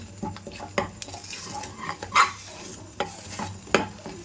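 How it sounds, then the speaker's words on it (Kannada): A utensil stirs a prawn, dry fish and egg palya in a pan, with close, repeated scraping and clinking strokes over a soft frying sizzle. "ತಳ ಹಿಡಿಬಾರ್ದು ಅಂತ ಚೆನ್ನಾಗಿ ತಿರುಗಿಸ್ಕೊಳ್ತಾ ಇದ್ದೀನಿ"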